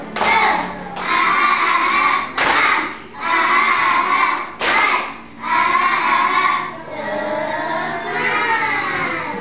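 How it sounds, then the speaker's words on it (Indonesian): A class of students performs a rhythmic spirit clap in a classroom, several loud unison bursts separated by short pauses, with chanted voices layered over the clapping. "Tepuk semangat."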